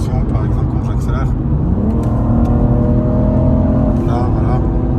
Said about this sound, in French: Je vais faire une petite démonstration, par exemple quand j'accélère